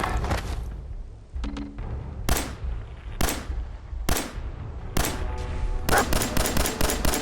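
A gun firing in Fallout 4: loud, sharp shots ring out one by one at roughly regular intervals, each with a short decaying tail, before a rapid cluster of shots closes out the burst.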